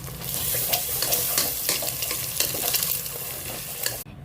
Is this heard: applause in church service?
no